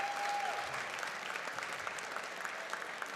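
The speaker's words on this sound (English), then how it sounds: "let's give all those students a round of applause for that fantastic performance" An audience at a high school winter band showcase concert applauds the students after their performance, a steady, fairly quiet roomful of clapping that carries on evenly throughout.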